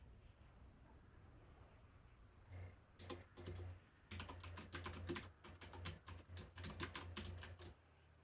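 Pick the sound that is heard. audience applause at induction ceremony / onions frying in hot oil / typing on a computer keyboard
typing on a computer keyboard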